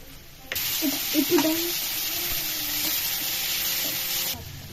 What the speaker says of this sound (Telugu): ఉల్లిగడ్డ గోల్డెన్ కలర్ వచ్చిన తర్వాత వేయించుకోవాలి